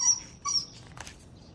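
A dog whimpers in high, thin whines, followed by a short yip, close by in an otherwise quiet space.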